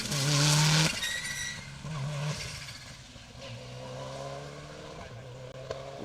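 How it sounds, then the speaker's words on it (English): A Subaru Impreza rally car on an asphalt stage of Rally Ceredigion, loud and close at first with a strong engine tone, then fading to a steadier, more distant drone as it carries on. "Indeed it was, car 40, Steve Nibbs and Gerwin Barry in the Impreza."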